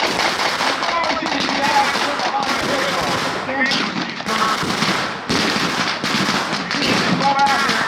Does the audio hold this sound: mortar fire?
yes